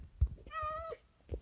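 A short meow from a cat in the Minecraft video game comes through clearly once, over faint low thumps and quiet background murmuring.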